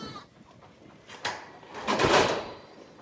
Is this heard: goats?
yes